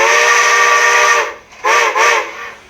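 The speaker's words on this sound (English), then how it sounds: "let's do whistle number 81, which is a Hancock short bell 3 chime" A model steam locomotive's sound decoder sounds a Hancock short-bell three-chime steam whistle: two loud, close blasts, a long one and then a shorter one after a brief break, with no voices.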